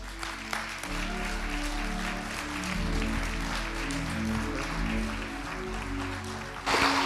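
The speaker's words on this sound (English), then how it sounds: "We give Tim another round of applause here." Audience applause following a Tribe Talk, a steady wash of clapping from a crowd that holds level throughout, with a louder burst near the end and a faint hum underneath.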